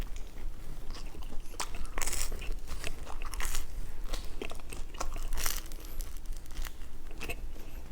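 Crunchy pizza crust from Angie's Pizza is bitten and chewed up close, with repeated sharp crackling bites and crumbly chewing and no talk.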